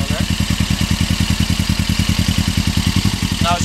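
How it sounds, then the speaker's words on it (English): A warmed-up Suzuki GS500F motorcycle with an aftermarket exhaust idles with a steady, throaty low pulse, a deep even rumble close by with no change in pace. "It's got a nice little purr because of the aftermarket exhaust on there."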